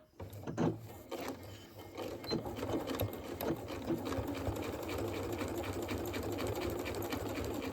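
A sewing machine quilting a table runner whirs steadily with a busy mechanical rattle, starting with a few short bursts before settling into continuous stitching, close and moderately quiet.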